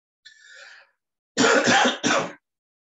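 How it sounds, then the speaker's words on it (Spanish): A short throaty sound followed by three harsh coughs in quick succession from a man with the flu, close and fairly loud, with brief silence between them. "así que ando con bastante tos."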